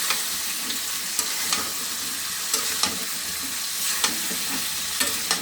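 Curry sizzles and fries in a pan while a spoon stirs it, scraping and tapping the metal at irregular intervals over a constant close hiss.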